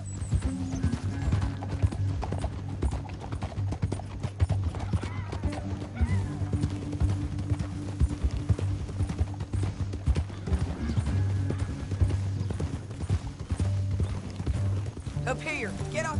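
Steady clip-clop of several horses' hooves moving at pace in Red Dead Redemption 2, continuous and fairly loud, with a low droning background and occasional voices talking over it.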